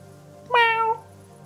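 A single short cat meow from a video game, clear and close, rising then holding briefly before stopping, over a low steady background hum.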